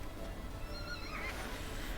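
A horse neighs and whinnies in the ranch video game Ranch of Rivershine, a clear, fairly close call with a wavering pitch heard over a low, steady game ambience, with no talking.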